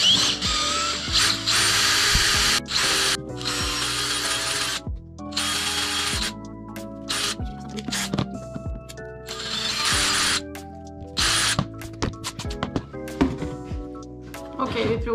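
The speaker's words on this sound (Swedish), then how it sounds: "Så tar vi en borr. 5 mm. Jag tror det är en träborr faktiskt." Power drill fitted with a 5 mm wood bit, whirring in uneven bursts with spin-ups and stops, clicks and mechanical rattles between them, while a person talks over parts of it.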